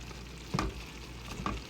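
Squash and squash shoots sautéing in a pan with tomatoes, a soft steady sizzle broken by two brief scrapes of stirring.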